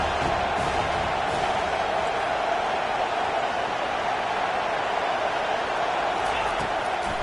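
Football stadium crowd roaring steadily as the home defense takes the field, a dense, continuous wall of loud cheering with no break across the whole stretch.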